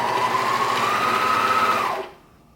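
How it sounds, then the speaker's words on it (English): A serger sewing machine runs at a steady high whir for about two seconds and then stops abruptly, loud and close with no talking. "My serger is caught."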